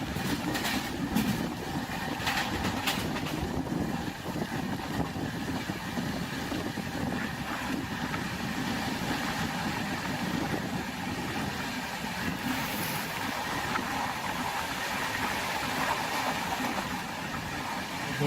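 A Howrah–Mumbai express train runs at night through Maharashtra, its steady rumble and rattle continuous and loud throughout, with wheel clatter and carriage noise filling the interior.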